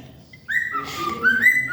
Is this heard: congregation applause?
no